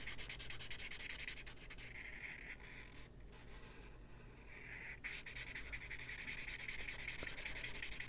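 A Copic marker's chisel tip scrubs back and forth across paper while coloring in a shirt, a close, continuous dry rubbing with rhythmic strokes that eases slightly mid-way before picking up again.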